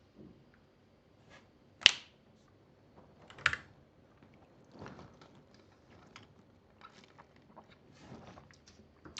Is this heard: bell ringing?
no